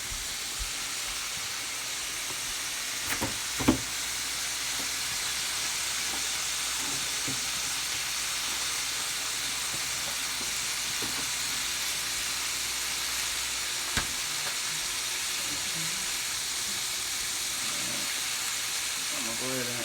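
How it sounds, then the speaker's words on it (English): Saltfish sautés in a pan with seasoning and butter for a saltfish rundown, giving a steady broadband sizzle and hiss that runs throughout, with occasional faint clicks of utensils and low background voices. "So we're going to let that saute a little bit here before we go ahead and cover it down."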